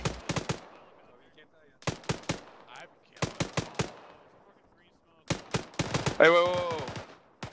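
Bursts of automatic gunfire in the military shooter ArmA, several sharp rapid volleys separated by pauses, loud and close, with a voice calling out briefly between them.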